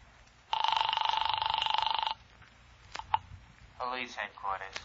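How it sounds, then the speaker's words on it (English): Old-time radio crime drama sound effect of a desk telephone bell ringing in one sustained burst of about one and a half seconds, fairly loud, followed by a couple of clicks as the receiver is lifted and then a voice speaking. "I grabbed the phone on Ryan's desk, and I called Hellman"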